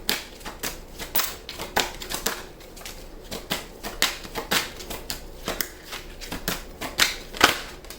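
Tarot cards shuffled by hand in a series of quick, crisp riffling and tapping bursts spaced irregularly, close and fairly quiet with no talking.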